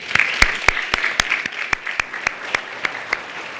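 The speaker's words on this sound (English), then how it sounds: "Let's have a round of applause for all of you." Sparse, distinct hand claps from a small group ring out one after another, loud and close, tapering off into scattered individual claps in a hall at the Old State House.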